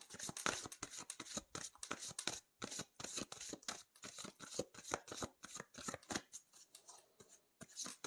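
Lenormand cards shuffled close up, a rapid continuous run of crisp flicks and riffles that stays steady throughout with no voices.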